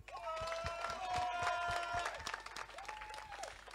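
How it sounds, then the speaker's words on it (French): Audience applause at a seminar, a steady wash of clapping from a crowd with a voice speaking over it. "Je vais vous demander de vous applaudir."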